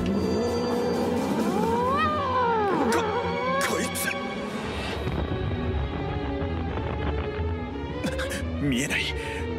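A stray cat yowls and caterwauls in the JoJo's Bizarre Adventure: Diamond Is Unbreakable anime, with drawn-out rising and falling wails amid tense voices and scene sounds.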